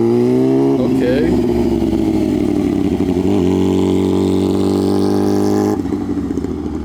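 A motorcycle engine hums and revs as a learner rider works the throttle, a loud steady drone that shifts slightly in pitch, with a voice speaking over it.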